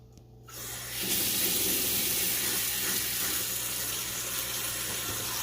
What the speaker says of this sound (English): I'm just going to run cold water over top of all these carrots